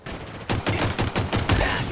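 Rifle fire in the video game Halo Infinite, a rapid series of loud, close bursts of shots over about two seconds with no talking.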